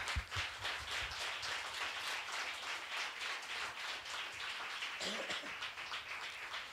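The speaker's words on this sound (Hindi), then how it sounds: "आप खुश हैं? ताली मार सकते हैं?" A church congregation claps along in rapid, steady rhythm during a Hindi sermon, loud and sustained throughout, with no speech rising above it.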